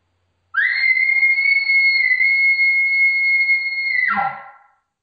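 A caller imitates a high, ringing elk contact bugle: one sustained, pure whistling tone held steady for several seconds, then dropping sharply into a short breathy grunt at the end, loud and close with silence around it.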